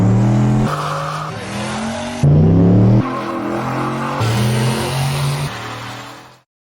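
A twin turbo Coyote-powered Ford F150 races at a no prep event, its engine roaring loud and close through rising revs and abrupt gear shifts before cutting off.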